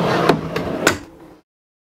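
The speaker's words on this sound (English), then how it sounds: "These are all on metal slides." A drawer in a 2015 Newmar Dutch Star diesel motorhome rolls along metal runners with a rumbling slide and a few clicks, ending in a soft stop before silence.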